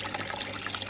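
Water pours steadily into the filter bucket of a koi pond aquaponics system, a close, continuous splashing rush with no pause.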